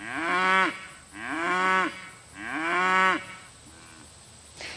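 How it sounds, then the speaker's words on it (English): A cow on a small farm that also keeps mini donkeys moos three times in long, drawn-out calls, then gives a shorter, softer fourth moo, fairly close and clear with no talking. "Wait for the cow to be quiet."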